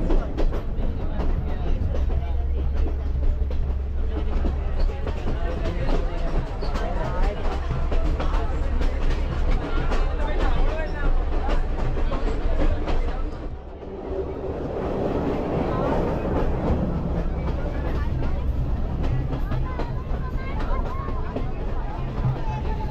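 Steady rumble and rattle of a moving train from inside a carriage on the Kandy to Ella line in Sri Lanka, with a crowd of passengers murmuring throughout.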